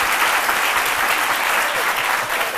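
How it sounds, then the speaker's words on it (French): A studio audience on a French-language talk show applauds, dense sustained clapping that fills the whole short stretch at an even, fairly loud level. "Applaudissez ça, non?"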